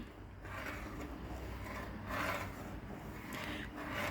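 A spoon or spatula stirs Thai soup in a pot, giving soft repeated scraping and rubbing strokes in a slow rhythm, fairly quiet and alone with no voices.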